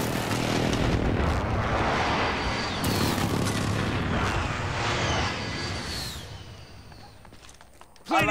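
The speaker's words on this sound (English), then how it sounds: "Friendly precision airstrike on the way" Heavy, continuous barrage of explosions from a precision airstrike in a shooter video game, dense rumbling booms overlapping loudly for several seconds before easing off, with a sharp burst at the very end.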